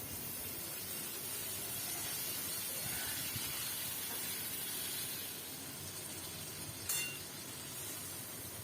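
Potatoes, tomato and green chili frying in oil in a pan, a dense steady hiss of sizzling with one brief clink of a utensil near the end.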